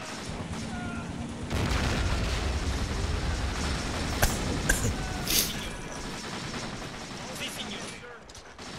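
Dense battle noise from a World War II strategy game match with a 1v1 tournament setting, with rumbling gunfire and sharp shot cracks near 4 and 5 seconds over constant low roar, beneath a commentator's voice.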